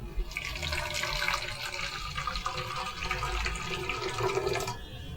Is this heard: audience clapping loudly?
no